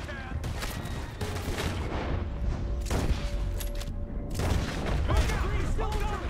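Gunfire and explosions in the Red Dead Redemption 2 video game, a busy mix of rapid shots, booms and a music bed running steadily throughout, with voices speaking over the battle.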